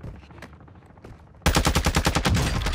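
Gunfire rings out in a shooter video game: a few isolated shots come first, then a loud sustained burst of rapid automatic fire with a steady fast rhythm.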